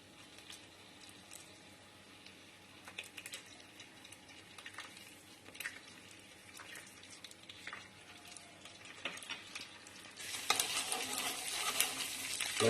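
Garlic dropped into a hot pan: faint sizzling and scraping stirs at first, then the frying swells into a loud, bright, crackling sizzle near the end.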